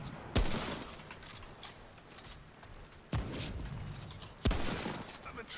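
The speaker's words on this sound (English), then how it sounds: "I only shoot at you because I know that there's a checkpoint up here." Gunfire in the video game Remnant: From The Ashes comes as three sharp, loud shots spread across the stretch over a busy game soundscape, with some talk in the background.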